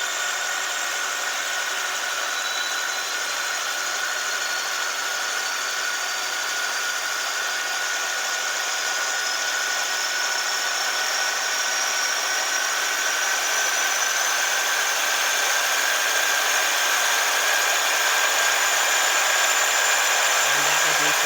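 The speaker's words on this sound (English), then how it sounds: "I love that the engine ramps up at the same time as increasing the speed." Model locomotive engine sound, a steady, loud droning hum that slowly climbs in pitch as the speed is stepped up, with no talking.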